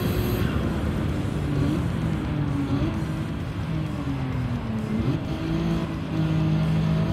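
Race car engine in Gran Turismo 7, a continuous close drone whose pitch climbs and drops with shifts and cornering, steady and loud throughout.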